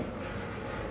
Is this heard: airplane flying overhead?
yes